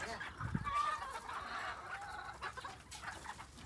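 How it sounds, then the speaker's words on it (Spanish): Roosters and hens on a ranch cluck in short, overlapping bursts at moderate distance, with one sharper squawk early on and a faint background murmur throughout. "aquí tiene sus gallos"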